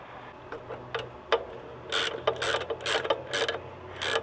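Ratchet wrench tightening the drive chain adjuster on a Yamaha SR500 motorcycle in a workshop, a series of close, sharp clicking bursts in quick repeated strokes, with no talk.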